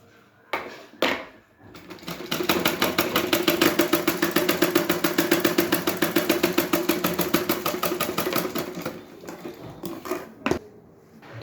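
A sewing machine stitches a blouse sleeve in a fast, even run of needle strokes for about eight seconds, bracketed by a few separate knocks and clicks before and after.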